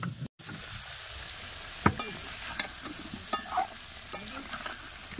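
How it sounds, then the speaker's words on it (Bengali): Potatoes for a meat curry fry in a pan with a steady sizzle, while a spatula stirs and scrapes in scattered clinks and taps, close and alone. "মাংসের আলুগুলো খুব ভালো করে ভেজে নিচ্ছি।"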